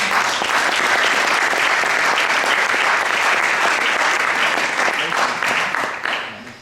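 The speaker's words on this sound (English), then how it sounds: "warm applause for Jurgen Meyer" An audience applauds Jurgen Mayer H. at an architecture lecture, a loud, dense wash of clapping that holds steady for several seconds before easing off at the end.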